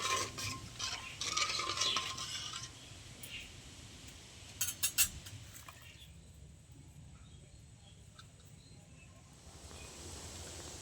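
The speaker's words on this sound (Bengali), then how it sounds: "একটু নেড়ে নুনটা মিশিয়ে দেবো।" A spoon stirs salt into boiling mung dal in a pot, with soft scraping and sloshing that is clearest early on. A faint bubbling simmer continues afterward with a few light clinks.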